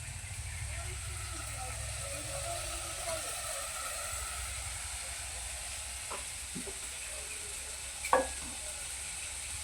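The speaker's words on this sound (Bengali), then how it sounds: "এখন আলু আর মাশরুম আর একটু কষিয়ে নেব।" Fried potatoes and mushrooms are stir-fried in a pan, a steady close sizzle with occasional scrapes and clinks of a spatula and one louder knock late on.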